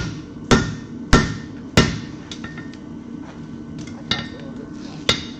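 A blacksmith forges hot metal at the anvil, with three evenly spaced, loud ringing hammer blows followed by lighter taps and a couple more strikes, each ending in a short metallic decay, close up and with no talking.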